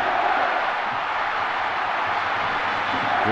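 A stadium crowd of supporters roars in a Winning Eleven 2000 PlayStation football match, a dense, steady wash of cheering that holds at a constant loud level for a few seconds with no clear breaks.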